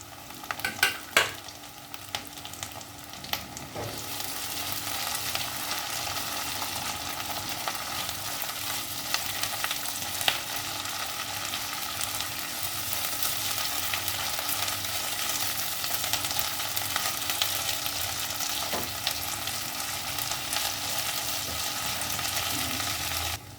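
Ginger-garlic paste fries with browned onions in a hot pan, a constant close sizzle with clattering stirs early on and intermittent scraping throughout, no voices heard.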